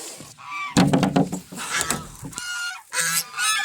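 Loud hens that have gotten loose inside a house squawk and call in repeated harsh bursts, close by and crowding over one another with hardly a pause.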